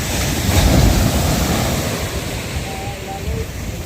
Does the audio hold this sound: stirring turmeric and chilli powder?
no